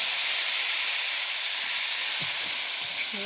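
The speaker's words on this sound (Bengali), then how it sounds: "এরপর বাঁধাকপি দিয়ে দিচ্ছি।" Shredded cabbage added to a hot pan with fish head, giving a loud, steady broadband hiss of steam and sizzle that holds evenly throughout, with faint clinks underneath.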